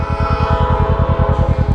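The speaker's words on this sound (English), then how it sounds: "Oh, there's a train coming." A train rolls steadily past close by, its rumbling wheels making a regular rhythmic clatter over a sustained low drone, loud and continuous with no talk.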